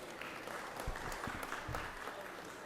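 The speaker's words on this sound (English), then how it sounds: "Let's give the senator from the 27th and his family a round of applause for being here today." Applause in the Georgia State Senate chamber as members welcome a senator and his family: a soft, steady patter of clapping heard from a distance, with a few sharper claps standing out.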